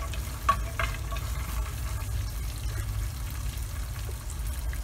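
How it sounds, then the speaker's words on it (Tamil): Peanuts and cashews frying in a pan for Tamil mint rice, a steady close sizzle with light stirring scrapes and no talking. "நமக்கு இப்போ இந்த வேர்க்கடலையும் கேஷ்யூவும் நல்லா கொஞ்சம் வறுத்துக்கலாம்."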